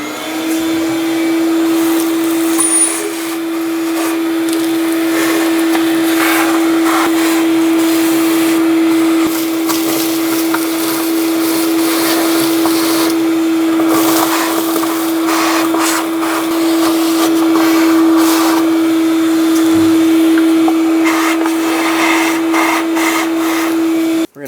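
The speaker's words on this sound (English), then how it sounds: "Using a vacuum, I'm going to clean up all of the debris inside of this valley and around our" Vacuum cleaner sucking debris from the engine valley of a 2000-2006 Toyota Tundra, a loud continuous motor whine held steady throughout, with rattling bursts as debris is pulled in.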